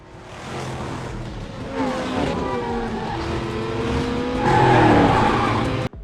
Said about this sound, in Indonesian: Dan di situ aksi kejar-kejaran pun terjadi antara James dan si pembunuh bayaran itu.